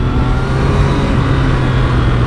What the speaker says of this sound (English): you guys hear that lovely 3-cylinder sound